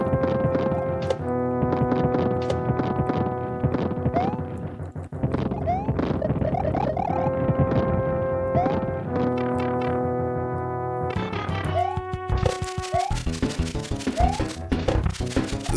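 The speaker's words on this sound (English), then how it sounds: "This section right here, there are just cannonballs firing everywhere" Cannonballs fire across an airship stage in Super Mario All-Stars, a stream of repeated dull thunks and thuds layered over loud, continuous game music.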